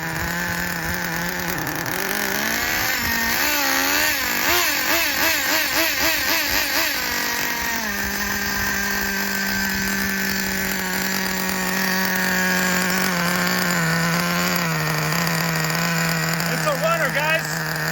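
A Traxxas Revo nitro RC truck engine idles close by with a continuous buzzing drone that briefly revs and wavers early on, then settles into a steady, stable idle.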